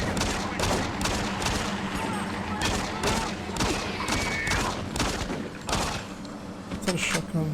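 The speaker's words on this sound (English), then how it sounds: "Is that a shotgun? Yes. Now it's Doom." Shotgun blasts in the video game Doom 3, a series of loud, close booms at roughly even intervals over a constant game background, with someone talking between the shots.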